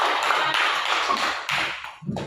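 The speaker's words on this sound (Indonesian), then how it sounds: "tepuk tangan dulu untuk Kofifa" A classroom of students applauds a classmate in a counseling lesson, a dense, steady wash of many hands clapping that fades out near the end, with a brief low voice at the very end.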